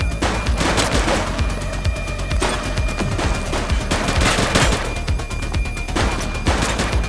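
Rapid gunfire crackles in the police game The Precinct, loud bursts of automatic shots and sharp single cracks following one another without pause.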